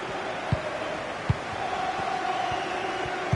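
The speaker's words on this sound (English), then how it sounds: "Well, just listen to this crowd. They want a bit more." Stadium crowd noise from a football video game, a steady broad roar of fans with occasional sharp thumps, sustained at a moderate level throughout.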